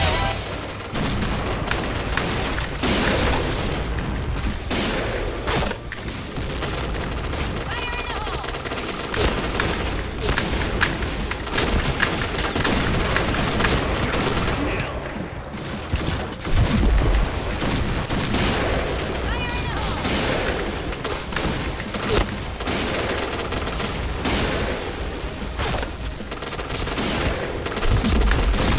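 Rapid bursts of video game gunfire crackle almost continuously, with booms and a voice talking in Thai over the action.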